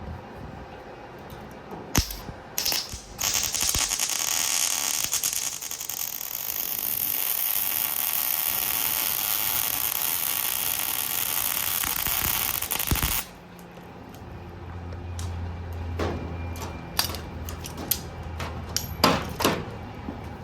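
Arc welding a nut onto an enclosed car trailer, with the ground clamped to vice grips, gives a loud, steady crackling sizzle for about eleven seconds. It then stops abruptly, leaving faint clicks and handling noises.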